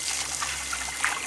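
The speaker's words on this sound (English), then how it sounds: "You want to wash out the pot?" Tap water runs and trickles steadily while a pot is washed out during traditional coconut oil making, a soft continuous close splash with no talking.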